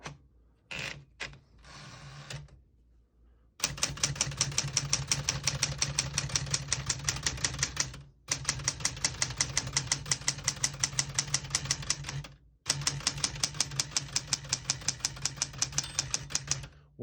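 A 1974 Smith-Corona Classic 12 portable typewriter typing at a steady, rapid clip, loud and close with rhythmic mechanical key strikes in long runs, broken by brief pauses, with a margin bell marking the end of a line.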